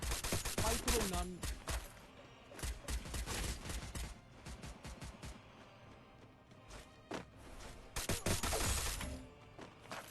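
Gunfire bursts in the battle-royale game Free Fire, with rapid broadband volleys clustered near the start and again around the eighth second, mixed with game effects and a voice speaking intermittently.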